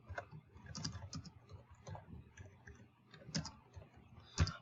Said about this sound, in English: I can type an assignment, say quiz on the Battle of Bunker Hill